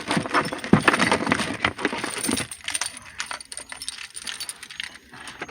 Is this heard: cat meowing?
no